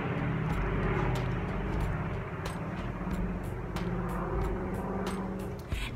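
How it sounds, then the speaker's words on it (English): A fixed-wing airplane flies overhead, giving a steady, loud low rumble that holds for the whole stretch and fades slightly toward the end, heard alone without talk. "Let's wait till the airplane goes."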